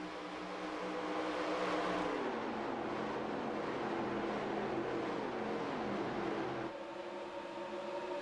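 Stock cars racing on the oval at Atlanta, a steady loud roar of several engines passing close, with pitch sweeping down as cars go by and a slight drop near the end.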